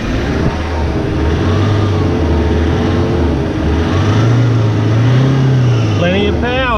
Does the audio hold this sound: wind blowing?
no